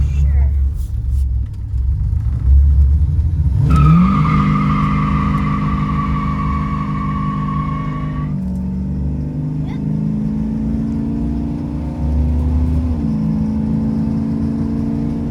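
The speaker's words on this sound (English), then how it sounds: "You think she'll squeal the tires, Isaac?" A 1974 Dodge Charger SE with a 440 engine rumbles loudly, then accelerates hard with a long high tire squeal lasting several seconds before settling back into a deep, close engine drone.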